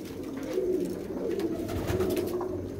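Soft, repeated cooing of pigeons kept by a pigeon fancier, close and fairly quiet, with low throaty calls rolling on throughout.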